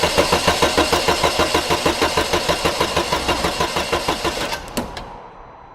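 A Vauxhall Opel Vectra engine with a misfire idles with a steady, rhythmic chug, then is switched off and winds down to silence near the end, loud and close with no talk.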